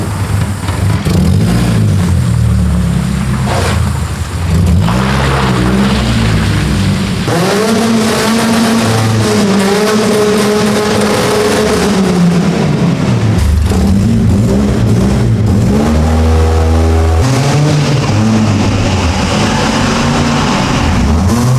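A Ford Focus offroad build fitted with new Dynovox headers revs in a tunnel, producing loud, sustained engine roar that rises and falls through repeated throttle blips, with no talk.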